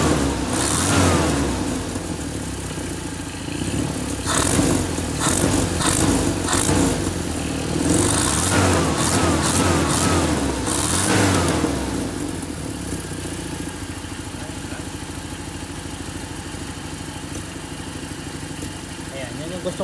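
A carbureted Toyota 4K engine, fitted with a 3K carburetor, runs and revs in bursts during tuning, then settles into a steadier idle. A person talks over the engine noise.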